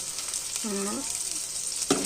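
A tempering of curry leaves and green chillies sizzles in a pan, a steady close frying crackle. A short squeaky tonal sound cuts in briefly, and a sharp clatter comes near the end.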